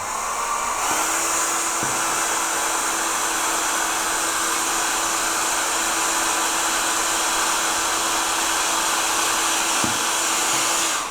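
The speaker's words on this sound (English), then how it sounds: "I get an old hairdryer and I warm the wax up and let it melt into the wood." An old hairdryer blows steadily to warm and melt beeswax into a low-relief wood carving of a feather, a loud continuous whine and rush of air that holds nearly unchanged for about ten seconds.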